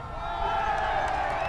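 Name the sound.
crowd cheering joyously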